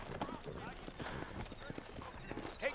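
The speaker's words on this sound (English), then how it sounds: "You ain't gonna find sturdier horses than these in all of New Ulster." Horse hooves clip-clop steadily on a road in the Red Dead Redemption video game, with a voice talking over the steady hoofbeats.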